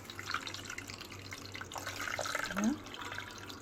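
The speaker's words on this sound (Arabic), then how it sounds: "انا هحط ميه اهو يا حبيبي. ننزل بالميه كده" Water pours steadily into a blender nearby, a soft continuous splashing that swells briefly near the end, while making fresh strawberry juice.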